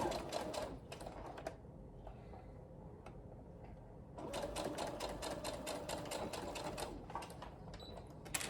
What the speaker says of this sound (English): we'll stitch it up with a 1/2 inch seam allowance